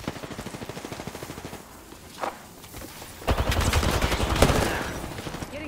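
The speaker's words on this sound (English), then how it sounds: "Getting shot at." Gunfire in the Apex Legends video game: rapid automatic bursts stuttering in quick rhythm, a pause with a lone shot, then a louder, denser volley of sustained fire, close and intense.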